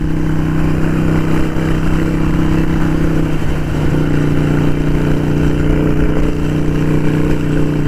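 Harley-Davidson Sportster 883 Iron motorcycle engine running steadily and loud, a strong low throbbing hum with a brief rise in pitch midway, heard close with no talking.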